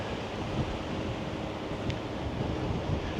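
Wind blowing outdoors on a breezy summer day in Las Vegas, a constant loud low rush buffeting the microphone with no other distinct sounds.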